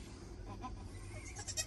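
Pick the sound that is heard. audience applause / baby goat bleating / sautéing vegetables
baby goat bleating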